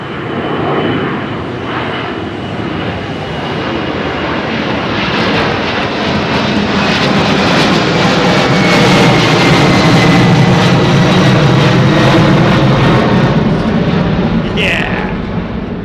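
A Delta Boeing 767-400 jet departing London Heathrow produces a loud, sustained engine roar with deep rumble and a rising whine, building and holding strong for the whole stretch while a voice speaks beneath it.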